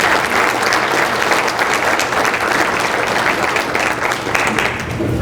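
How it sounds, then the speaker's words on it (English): Sustained audience applause at a county State of the County address, dense and even throughout, with no speech over it. "Let's give her a round of applause."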